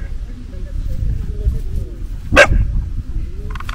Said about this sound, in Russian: Вот она будет бавкать на все вокруг происходящее непонятное.